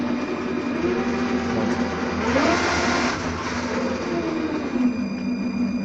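A lathe motor running through a frequency converter hums steadily close by, and its pitch rises audibly midway as the speed is turned up before settling back into a constant whir.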